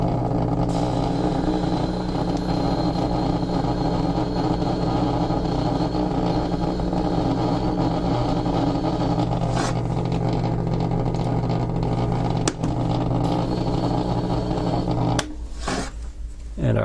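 A motorized 1200 grit sharpening wheel honing a hand engraving graver, giving a loud steady motor hum with a ringing overtone that holds throughout and cuts out near the end.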